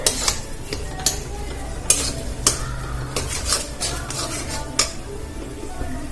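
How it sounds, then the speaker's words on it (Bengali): A snack mixture being stirred and fried in a pan, with irregular loud clanks and scrapes of a metal spatula against the pan over a soft, low sizzle. "এটাকে আমি খুব ভালো করে নাড়াচাড়া করে ভেজে নেব"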